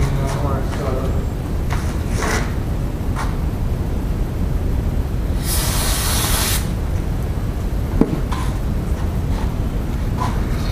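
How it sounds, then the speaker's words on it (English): Brake cleaner hisses from an aerosol can in one loud burst of about a second, sprayed onto LSX cylinder head parts during a valve job, with shop noise and a few soft knocks around it. "Let me get some brake cleaning on my stuff."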